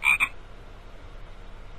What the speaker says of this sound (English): Watch out for toads jumping out of the bath.